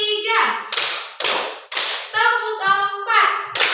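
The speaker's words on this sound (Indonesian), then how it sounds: "Tepuk satu, tepuk dua, tepuk tiga," A group of women plays a rhythmic counting clap game, sharp bursts of hand claps spaced between sung, chanted voices that lead each beat, loud and close.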